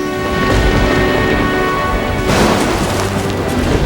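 Heavy rain pours steadily through a forest, thick and loud, with a deep rumbling boom of thunder rolling in partway through.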